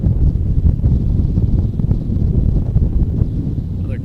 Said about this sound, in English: Another gust of wind here.